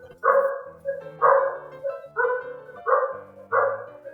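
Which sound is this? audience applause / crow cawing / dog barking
dog barking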